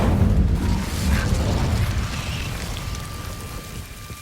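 The Incendio fire spell from Hogwarts Legacy bursts out with a low rumbling whoosh that fades over a few seconds, and a thin high tone lingers near the end.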